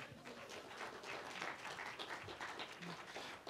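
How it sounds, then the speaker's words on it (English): An audience gives a sustained round of applause, dense steady clapping filling the room at a constant level for the whole stretch, with no voices standing out. "So can we have a round of applause for Olivia?"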